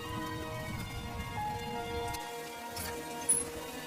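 Heavy rain falling at night makes a steady, dense hiss that fills the background without a break. The low rumble underneath drops away partway through.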